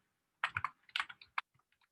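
Commands are typed on a computer keyboard while deploying a Python web application, a quick cluster of crisp key clicks followed by a few lighter, sparser taps, close and quiet with no talking.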